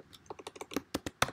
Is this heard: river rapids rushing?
no